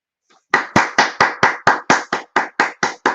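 A single person clapping after a poem reading, about twelve sharp, evenly spaced claps close to the microphone, with a faint murmur just before they begin.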